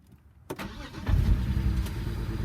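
A BMW 135i (E82) N54 engine with a throttle fault cranks with a click and a brief whir, then catches into a rough, steady idle rumble, close and alone.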